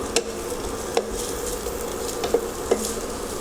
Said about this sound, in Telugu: ఇప్పుడు ఆనియన్ వేయించుకుందాము,